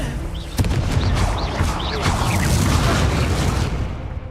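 A Confringo spell explosion in the video game Hogwarts Legacy: a dense, rumbling blast that sustains for several seconds with a sharp thump early on, under chirpy effects and faint voices.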